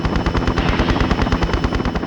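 A helicopter attacks in Tomb Raider Chronicles, loud and close, its rapid rhythmic rotor chop mixed with fast repeating gunfire bursts across the whole stretch, with no talking.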